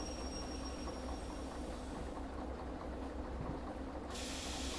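A train in the Derail Valley railway game rolls along with a steady, continuous rumble and hiss, with a brighter, higher wash of noise rising near the end and no voices.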